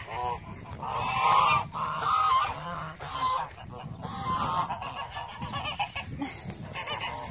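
Geese on a homestead honk loudly and repeatedly nearby, a raucous overlapping chorus of calls that runs continuously without pause and with no voices over it.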